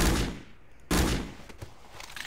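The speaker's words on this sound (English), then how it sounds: "4 shots for his body" Video-game handgun shots striking a body, with two heavy close reports in quick succession and lighter impacts after them.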